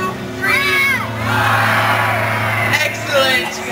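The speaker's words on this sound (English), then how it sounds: "yell the most loud, most piratiest "arr" that you possibly can" An audience at a bird show yells a drawn-out pirate "arr" together, a loud crowd shout that swells over a few seconds before fading.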